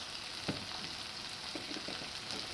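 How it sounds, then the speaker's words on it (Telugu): Idli upma ingredients fry in a pan with an even, close crackling sizzle, with a couple of soft knocks from stirring. "ఇప్పుడు మనం వేసుకున్నవన్నీ బాగా ఫ్రై అవుతున్నాయండి"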